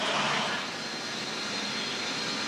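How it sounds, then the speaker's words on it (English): Marine helicopters and Harrier jets arriving at the amphibious assault ship USS Peleliu near Camp Pendleton in 2001 make a steady, loud aircraft engine roar that fills the whole stretch with no voices. "a steady stream of Marine helicopters and Harrier jets start arriving from Camp Pendleton"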